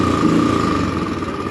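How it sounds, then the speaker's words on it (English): A Royal Enfield Bullet Trials 500 motorcycle engine revs briefly on the throttle, a loud, close, throaty burst lasting under two seconds with nothing else heard. "It's got a really, really quiet tick over, and then as soon as you twist the throttle,"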